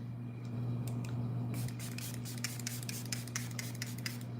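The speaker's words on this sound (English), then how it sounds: "I think I'm gonna do some more spray." Makeup setting spray is misted onto a face, several short hissing bursts in quick succession over a low steady hum, close to the microphone.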